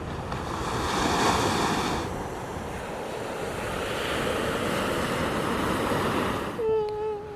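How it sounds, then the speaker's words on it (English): Ocean waves washing onto an atmospheric beach below cliffs in Portugal, a continuous loud roar of surf with wind buffeting the microphone, ending in a brief high-pitched tone. "Let's see if these waves are any bigger."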